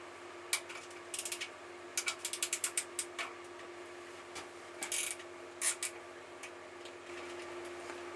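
A ratchet works an 8mm bolt holding the pillion seat on a 2002 Triumph Bonneville America, giving rapid rhythmic clicking runs in several bursts, close by over a steady low hum, with no talking.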